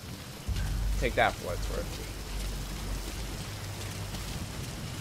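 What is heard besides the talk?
rain falling in video game Metal Gear Solid 5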